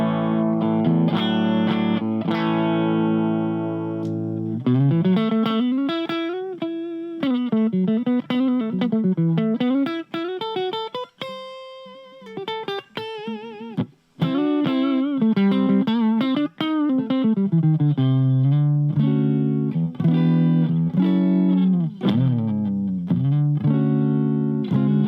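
An electric guitar plays through a Blackstar ID Core 10 V2 amp on a clean, warm tone with no effects, sustained chords and melodic runs ringing out with no talking.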